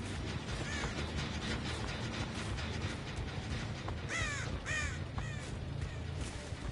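Crows caw in the Dead by Daylight game, several harsh calls bunched together in the middle of the clip over a steady rumbling ambient bed.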